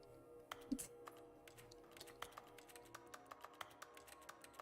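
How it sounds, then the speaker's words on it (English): Keyboard clicks in the video game The Stanley Parable: Ultra Deluxe, a quiet, irregular series of sharp key taps with a soft hum underneath. "I like how it makes keyboard noises no matter what I click on."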